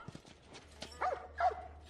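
A dog in the video game The Last of Us barks twice in quick succession, short and fairly faint, over low background game ambience.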